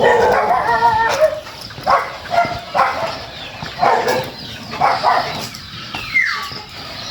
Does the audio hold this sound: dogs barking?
yes